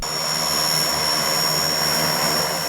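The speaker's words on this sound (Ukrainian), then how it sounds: "винищувачі су 27 та су 27 УБ, а також красень, військово-транспортний літак Іл-76 МД приземлились на військовому аеродромі у Івано-Франківську" Su-27 and Su-27UB fighter jets and an Il-76MD military transport aircraft at a military airfield in Ivano-Frankivsk, heard as a steady, dense engine roar with a high whining tone, constant and fairly loud.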